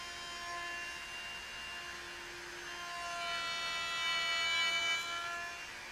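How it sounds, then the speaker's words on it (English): A router cutting dovetail pin sockets in a wooden board held in a Leigh D4R Pro dovetail jig gives a steady, high-pitched whine that swells and eases as the cut moves along, heard alone. "Now route in and out from left to right, following the guides and bridge pieces."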